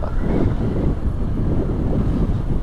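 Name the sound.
wind blowing at Col de l'Iseran, French Alps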